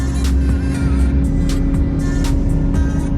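A Ford Raptor truck with rebuilt suspension drives along trails, its engine a loud, continuous rumble with repeated knocks and clatters from the rough ground.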